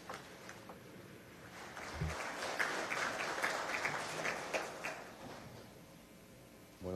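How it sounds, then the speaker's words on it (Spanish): Applause from an audience at a China–Venezuela business committee meeting, welcoming the Venezuelan president to the podium. Faint, distant clapping swells for a few seconds, then fades. "A continuación, con fuertes aplausos, invitamos al presidente Nicolás Maduro para hacer uso de la palabra."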